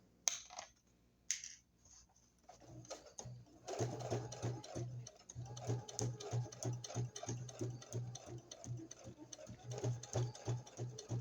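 A sewing machine runs at a steady medium speed, stitching a junk journal cover with a fast, even rhythmic chatter after a few soft handling clicks at the start.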